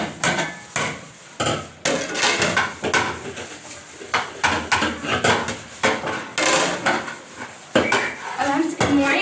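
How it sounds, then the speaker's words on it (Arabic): Dishes, pots and pans washed and scrubbed by hand in a home kitchen before the pre-dawn meal, with rapid clattering metal and cutlery knocks, scraping and clanks in an irregular busy rhythm, close and loud. "انا همسك المواعين لحد ما الفجر يقوم."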